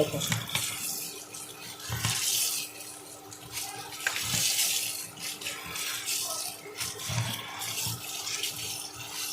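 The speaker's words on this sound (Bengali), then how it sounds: "চাউমিনটা আমি সিদ্ধ করে নিয়েছি নিয়ে ঠান্ডা জলে একদম ভালো করে ধুয়ে নেব" Boiled chow mein noodles rinsed under cold tap water, a continuous rushing splash with irregular swells and rattles as the noodles are handled under the stream.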